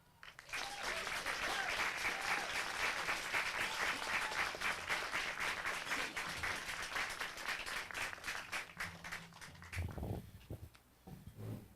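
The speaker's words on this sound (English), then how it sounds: "Give them all a round of applause, ladies and gentlemen, please." A crowd at a candlelight vigil applauds loudly and steadily for several seconds, then the clapping thins out and fades near the end.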